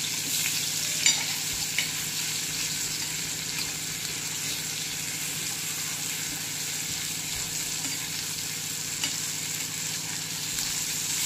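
Fish frying in a pan with a dense, even sizzle and crackle of hot oil that holds steady throughout, with an occasional faint clink.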